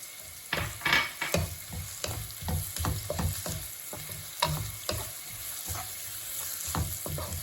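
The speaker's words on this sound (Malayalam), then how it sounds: "ഇനി നമുക്ക് അരിഞ്ഞു വെച്ചിരിക്കുന്ന സവാള ഇട്ട് കൊടുക്കാം ഈ സവാള പെട്ടെന്നൊന്ന് വാടി കിട്ടാൻ നമ്മുടെ ഉപ്പ് ഇട്ട് കൊടുക്കാം" Chopped onions sautéing with salt in a hot pan, a steady sizzle under repeated scraping stir strokes, close and fairly soft, with no voices.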